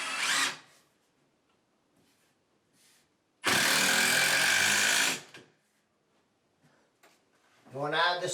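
A power screwdriver drives screws into a glued panel during new home construction. One loud burst of about two seconds, close by, with brief talk before and after.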